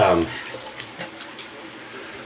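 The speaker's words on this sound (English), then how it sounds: "I'm gonna let that drain, so forgive the gurgling." A bathroom sink drains after a shave, a soft steady watery gurgle and trickle running throughout after a brief louder splash at the start.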